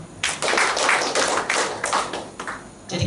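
Congregation applauding during a church service, a dense burst of clapping from many hands that starts abruptly, holds steady for nearly three seconds and briefly swells again at the end.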